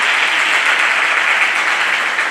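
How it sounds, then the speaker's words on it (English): An audience at a World Food Day career talk breaks into loud, dense applause for the speaker, an even roar of many hands clapping close by with no pause. "give him a big applause."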